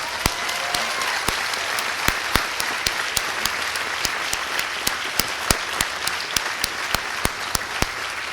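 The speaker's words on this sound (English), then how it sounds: "Let's everyone please give our incredible teachers a big round of applause" Applause for teachers at a lower school moving-up ceremony, with a crowd clapping steadily and densely throughout and one close clapper's sharp, evenly spaced claps standing out above the rest.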